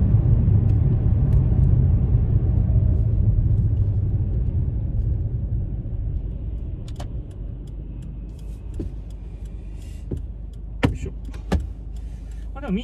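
Subaru Impreza WRX STI 2.0 4WD, a GDB model with about 91,000 km, pulls away with a low, steady engine rumble that gradually eases, and a few faint clicks and knocks from inside the cabin come through near the end.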